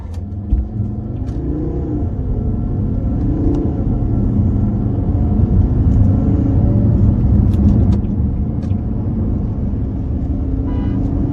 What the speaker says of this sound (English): this is the diesel 5-cylinder engine channeled with the 6-speed automatic gearbox